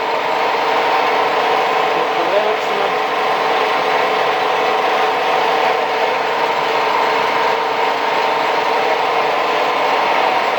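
A 1A616 lathe runs on 220 V, giving a steady, close mechanical whine and hum that stays even for the whole stretch with no talk.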